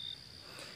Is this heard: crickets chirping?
yes